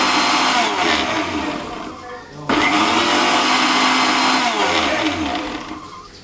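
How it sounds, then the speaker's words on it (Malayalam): A mixer grinder whirs loudly in pulse mode, blending mayonnaise with garlic: a strong motor roar that winds down briefly, then surges back on and runs before easing off again. "നേരത്തെ നമ്മൾ ചെയ്തതുപോലെ ഇതും പൾസ് മോഡിൽ തന്നെയാണ് അടിച്ചെടുക്കേണ്ടത്"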